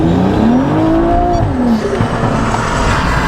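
A BMW E90 335i with the N54 engine at a Queensland roll racing event, its loud, close engine note rising and falling in rolling pitch sweeps throughout, with no talking.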